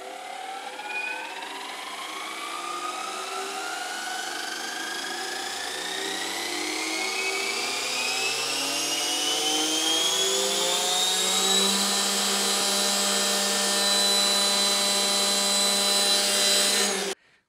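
Roban EC130 800-size scale RC helicopter with a fenestron tail, its rotor spinning up on a ground run: a close, loud whine that climbs steadily in pitch, with layered harmonic tones, then holds level before stopping abruptly.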